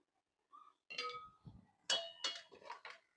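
Metal lid set down on a pot of curry with beans, potato, tomato and lentil dumplings: a soft tap, then several sharp clinks and clatters close by, no talk.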